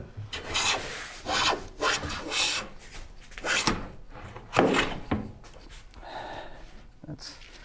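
A hand plane shaves a bowed wooden board in repeated rasping strokes, each a short scraping rush of wood, close by, with some breathing between strokes.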